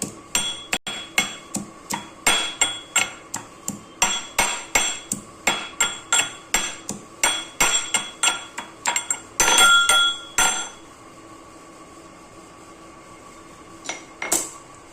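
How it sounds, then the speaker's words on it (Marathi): Repeated sharp pounding in a steady rhythm, a stone pestle striking a mortar as garlic cloves are crushed, then a brief scraping pause and quiet. "ह्या 2-4 पाकळ्या लसणाच्या थोड्याशा ठेचून घ्यायच्या आहेत"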